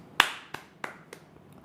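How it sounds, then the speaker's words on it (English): Slow, deliberate hand claps, about four or five separate sharp claps spaced evenly and growing fainter, with no talking. "slow claps"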